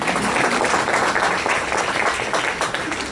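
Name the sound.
audience applause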